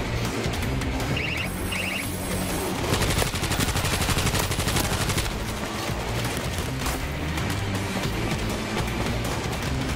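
An auto turret fires nonstop during a World War Z: Aftermath mission in Marseille, a loud, dense automatic rattle mixed with other guns and blasts, steady for the whole stretch with no talk.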